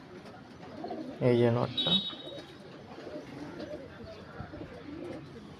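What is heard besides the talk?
Panjabi tatira pigeons cooing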